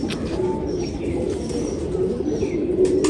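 Pigeons coo in low repeated calls with occasional wing flaps and light chirps, close and steady, no talk.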